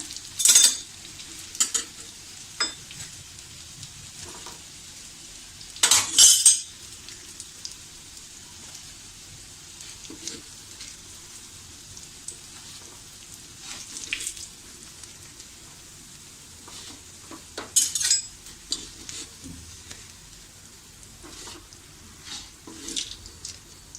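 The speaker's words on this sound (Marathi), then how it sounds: "आता मी बाकीचे कटलेट सुद्धा अशाच प्रकारे शॅलो फ्राय करून घेते" Poha and potato cutlets shallow frying in a pan, a soft steady sizzle with quiet crackles and a few louder bursts of spattering oil, with no voice.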